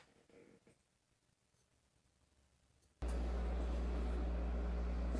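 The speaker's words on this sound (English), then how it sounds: "there's a noise in the background because I am running my AC unit" An air conditioning unit starts up indoors partway through, shifting from a quiet room hiss to a loud, steady broadband roar with a low hum that runs unbroken to the end.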